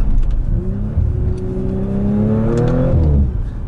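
Inside a 2018 Audi RS5 with the windows shut, the engine revs up in a smooth, muffled climb, its rising pitch steady and moderately loud before it settles near the end.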